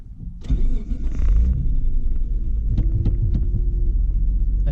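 A Mitsubishi 3000GT VR4 that has not run in many years cranks briefly and then fires into a loud, rumbling idle close by, with a few faint clicks as it settles.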